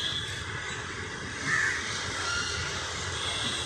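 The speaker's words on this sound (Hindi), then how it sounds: "अरे ये देखो पेड़ पे कितने सारे कौवे बैठे हैं।" Many crows perched in a tree in a garden, cawing repeatedly at moderate distance against a steady outdoor background, with no talking.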